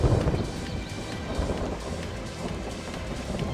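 Rain and thunder in the video game Final Fantasy XIII, a steady wash of heavy rainfall with deep rumbling thunder rolling underneath, continuous and fairly loud without any talk.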